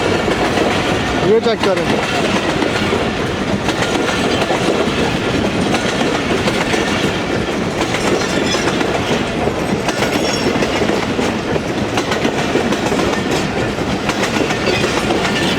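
A nonstop express with mixed coaches runs through a halt station at Chanesar, Karachi, its steady clickety-clack and rumble loud and continuous throughout, with a brief voice speaking over it near the start.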